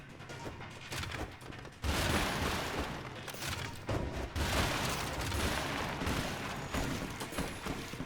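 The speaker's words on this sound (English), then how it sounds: "swarm missiles are really good at getting these smaller enemies off me" Swarm missiles fire at small enemies in the game Cubed and Dangerous, a dense roaring barrage of overlapping blasts that surges loudly, dips briefly, then rumbles on steadily.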